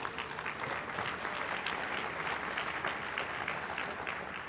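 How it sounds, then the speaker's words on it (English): An audience at a mayors' climate protection luncheon claps together in a steady, even round of applause, moderately distant and without speech over it. "You can give them a round of applause, please."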